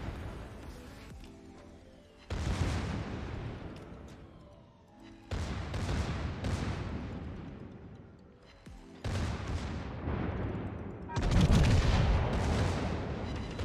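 Secondary guns of the German Tier VIII battleship Bismarck firing in World of Warships, four heavy booming salvos spaced a few seconds apart, each with a long rumbling decay, loud and without talk.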